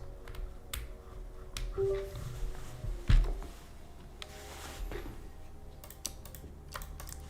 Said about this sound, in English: Alright, let's see if this keyboard works.